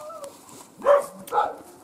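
A dog in a rural village yard on an autumn day gives two short, fairly close barks or yips about half a second apart, with quiet outdoor background between them.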